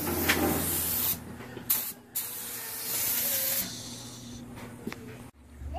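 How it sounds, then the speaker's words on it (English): A paint spray gun hisses in long, steady bursts as it lays the first coat of clear on a Ford Edge body, with brief pauses between passes, close and loud. "I'm just gonna cover it and spray the first coat."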